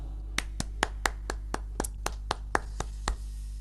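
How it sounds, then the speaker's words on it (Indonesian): Group of worshippers clapping hands together at a church service, about thirteen sharp separate claps in a steady, slightly uneven rhythm, close and clear over a low hum. "Tepuk tangan yuk sama-sama."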